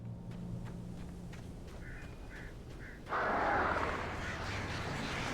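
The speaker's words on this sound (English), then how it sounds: "Birds." Birds call in the Alan Wake video game world, a few short harsh caws repeating at moderate distance before a louder burst of rustling ambient noise takes over.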